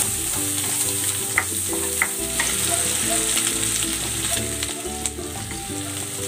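Garlic sautés in a pan beside pork, giving a continuous loud close sizzle with occasional light clinks and stirring scrapes throughout.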